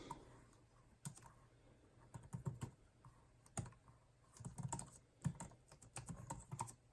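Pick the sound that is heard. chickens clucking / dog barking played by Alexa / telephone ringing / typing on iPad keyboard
typing on iPad keyboard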